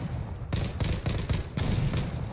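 Rapid bursts of gunfire from a Zula online shooter, several volleys in quick succession with short gaps, loud and close throughout.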